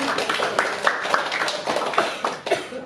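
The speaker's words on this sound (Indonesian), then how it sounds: "Mari beri tepuk tangan untuk Ainun" An audience clapping for a participant during a class presentation on employee leave, a busy moderate patter of many hands at medium distance, with a faint voice underneath.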